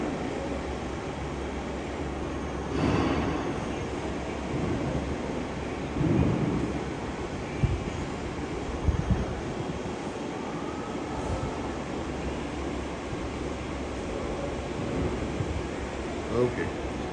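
A LAGUN vertical turret milling machine from Spain runs with a steady broadband mechanical roar, a few heavier knocks and surges rising out of the continuous drone, while someone speaks briefly over it.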